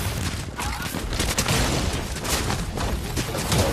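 Rapid gunfire crackles in a shooter video game, a dense, continuous barrage of overlapping shots that stays loud throughout with no pauses.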